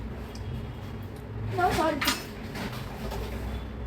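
Food being mixed in a pot during home cooking, with a few soft scraping clinks of a spoon against the metal pot over a low kitchen background, a little louder midway.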